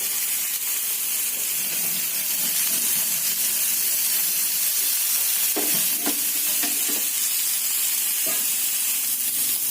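Fish fries in a pan over a high gas flame, a loud continuous sizzle and hiss, broken midway by a few sharp scraping and stirring clatters.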